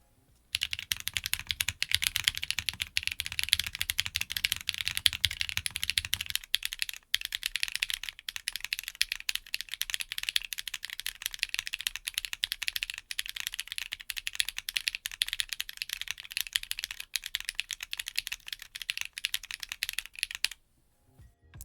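Steady, rapid typing on a Delta50 40% mechanical keyboard, clacky and continuous, close up with no talking, a bit fuller at the start before thinning out.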